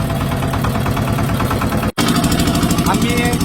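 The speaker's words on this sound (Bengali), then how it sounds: "এই যে স্টার্ট হয়ে গেল আমাদের বোট।" A small boat engine running loud and steady with a rapid chugging throb close by, briefly cut off by a short gap, with a voice speaking over it.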